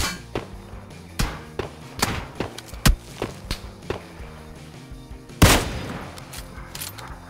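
Rapid bursts of gunfire from the PUBG Lite video game, set in the Miramar desert map, crack out in irregular volleys with a louder burst near the end, with no talk over them.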